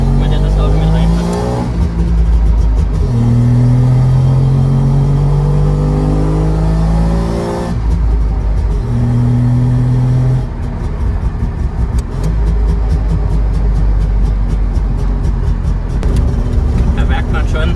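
Inside a car driven fast over an uneven road with short suspension travel, the engine drones and rises in pitch through gear changes, with road rumble throughout and people talking over the noise.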